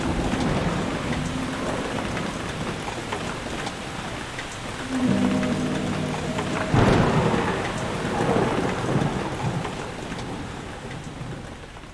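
Steady rain falls with rolling thunder in The Suicide of Rachel Foster, a constant wash of drops broken by a deep rumble building mid-way and a louder crack soon after.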